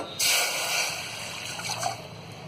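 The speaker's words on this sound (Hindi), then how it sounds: "तो सबसे पहले हम ये पानी डालेंगे" Water poured into a cooking pot for jaggery sweet rice, a steady splashing rush that starts abruptly and runs close and fairly loud, with no talking.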